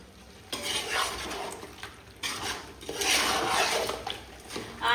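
Chicken sukka with grated coconut is stirred in a pan as it dries, with repeated scraping sweeps of a spoon under a soft sizzle, close and moderately loud, in bursts with brief pauses between.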